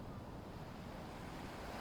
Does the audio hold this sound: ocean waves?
yes